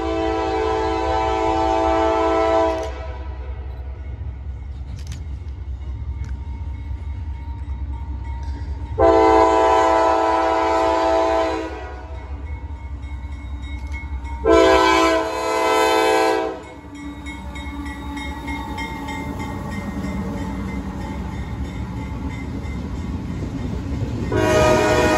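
A freight train rolls past close by with a steady rumble, sounding its horn in three long, loud blasts spread across the passage.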